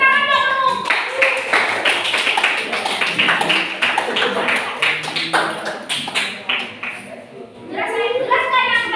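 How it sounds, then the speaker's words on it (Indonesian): Classroom clapping: a group of pupils claps in quick, rhythmic strokes at the teacher's request, fairly close and busy, fading out before voices return at the end. "Tepuk tangan dong."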